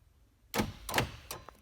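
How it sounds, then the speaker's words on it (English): Door locks on a Chevrolet 1500 C/K pickup cycle in a quick series of sharp mechanical clunks, close and clear with no talk, over little more than a second. "Probably heard the door locks there."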